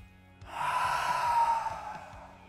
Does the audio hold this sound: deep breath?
yes